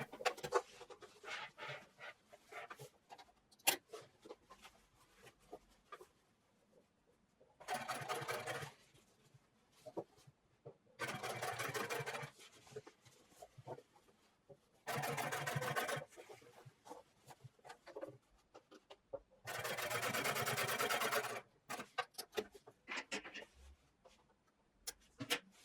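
A home sewing machine stitches a jeans fly seam, whirring in several separate bursts of a few seconds each, with quiet handling sounds in between.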